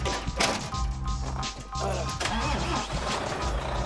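A 40-tonne semi-trailer truck's diesel engine turns over and catches, giving a deep, close rumble with a few heavy knocks as it settles into a rough idle.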